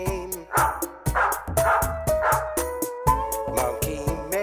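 A family dog barks in a rhythmic run of short woofs and yips, the barks repeating steadily at close range over a tonal musical backing.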